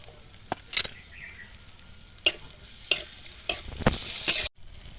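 Chopped onions drop into hot mustard oil in a heated kadai, followed by a few sharp stirring knocks and a rising, hissing sizzle. The sizzle swells loudly and then stops abruptly.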